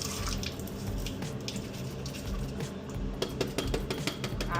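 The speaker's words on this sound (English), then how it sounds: "I do a little double rinse." Tap water runs steadily into a sink while food is rinsed in a strainer inside a camper van, with faint clinks and drips over the constant flow.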